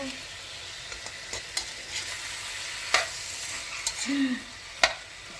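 Pork for binagoongang baboy sa gata fries in a pan with a soft, continuous sizzle, broken by light scrapes and taps of a stirring utensil at irregular intervals.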